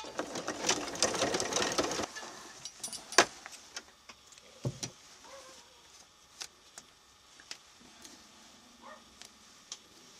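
A sewing machine bastes fabric with a dense run of stitching that stops after about two seconds, followed by scattered clicks, clunks and handling noises.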